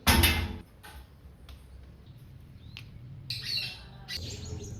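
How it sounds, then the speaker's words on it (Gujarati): A parrot calls near a village cot outdoors: one loud, harsh squawk up close at the start, then two shorter, quieter squawks a few seconds apart over soft background ambience. "અમારા ખાટલે પોપટ બેહવા આવે."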